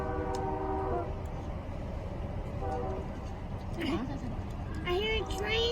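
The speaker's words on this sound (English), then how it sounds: "I hear a train." A train horn sounds several times at a distance over steady rumbling traffic and road noise during a drive past a dinosaur park, with voices and a child's high calls mixed in.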